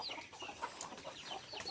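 Chickens and guinea fowl on a rural farm cluck and chatter in short, overlapping calls, close and moderately loud, with no speech.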